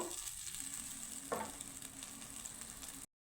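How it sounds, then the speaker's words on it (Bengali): Spice paste frying in a pan for a pumpkin and peanut curry, a steady close sizzle with one brief scrape partway through, and no talk. "তো এই জলটা দিয়ে দিলাম বাটি ধুয়ে তো মশলাটাকে আমি একটু কষিয়ে নিব"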